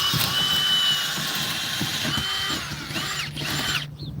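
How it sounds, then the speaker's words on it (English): A power drill whirs steadily at close range into a tin roof, with a high, grinding whine, then cuts off near the end. "I'm going to go ahead and drill right next to her."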